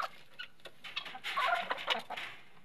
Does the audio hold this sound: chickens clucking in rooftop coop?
yes